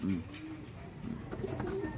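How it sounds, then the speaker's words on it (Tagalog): A small bird calls nearby with soft, brief cooing notes repeated a few times over a low background hum. "Napakaliit na ibon yan"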